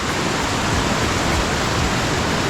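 A small, shallow waterfall near Sakleshpur pours with a steady, broadband rushing roar, close and loud, continuous and alone without talk.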